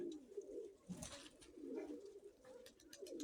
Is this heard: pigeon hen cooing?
yes